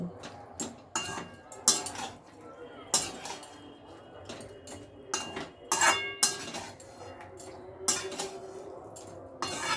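Fried fish, eggplant and spices being mixed in a pan, with irregular clinks and scrapes of a metal spoon against the pan over a quiet background.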